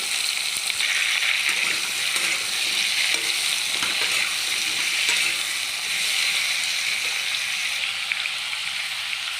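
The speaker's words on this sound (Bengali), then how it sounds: "কেটে রাখা মিষ্টি কুমড়ো আর আলু তেলের মধ্যে দিয়ে দিলাম" Cut pumpkin and potatoes fry in hot oil with panch phoron, giving a steady, close sizzle with light stirring scrapes throughout and no voices.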